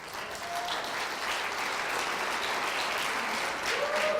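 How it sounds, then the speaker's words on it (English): Steady audience applause fills a tech demo event, a dense, even wash of clapping from a sizable crowd that holds at constant level throughout with no talk over it. "So round of applause again for Vibika."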